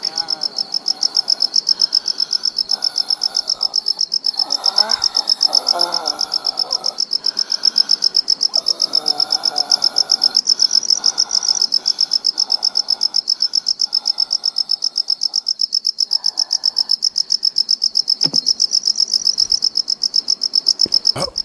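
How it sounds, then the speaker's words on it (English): Crickets in the video game Infestation keep up a loud, dense, continuous chirping throughout, with a few faint thuds and rustles underneath. "God, crickets."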